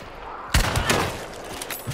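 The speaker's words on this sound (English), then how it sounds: "He's shooting a mask, Krang." Gunfire in the video game Hunt: Showdown, a sharp loud shot followed by a rapid cluster of further reports with a lingering echoing tail.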